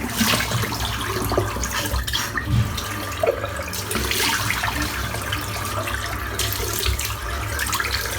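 Tap water runs steadily into a bathroom sink while preparing for a wet shave, a continuous close splashing hiss with a few faint knocks.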